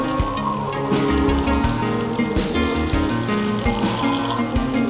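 Marinated chicken frying in a pan for Mughlai chicken gives a loud, steady sizzle and crackle that runs unbroken throughout, with a busy tonal layer beneath.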